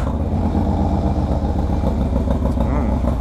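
A 2017 Harley-Davidson Breakout ProStreet motorcycle engine idles with a steady, deep, throaty rumble, close and continuous with no voices over it.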